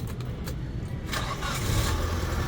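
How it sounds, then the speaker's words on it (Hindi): A Mitsubishi Lancer engine cranks and catches after its ECU was repaired, a few stuttering starter beats giving way to a rising, steady running rumble, close and fairly loud, with no talking. "करूँ स्टार्ट गाड़ी?"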